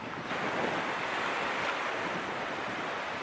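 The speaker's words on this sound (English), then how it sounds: "this is a beach, and you could swim in it" Ocean surf washes steadily onto a beach in Guyana, a constant broad hiss with wind noise buffeting the microphone, moderately faint, with no voices present.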